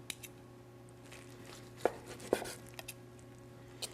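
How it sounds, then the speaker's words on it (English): A knife cutting through turkey roulade on a cutting board, slicing on a diagonal, giving a few faint, sparse taps and soft cuts against a quiet background hum. "we'll go ahead and slice it up. I always like to slice it on a diagonal"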